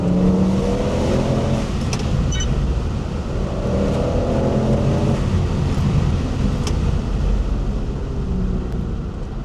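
An Audi RS6 C6 with a V10 biturbo engine drives through the woods, its loud, deep engine note droning steadily with rising and falling revs and a smooth, continuous exhaust rumble.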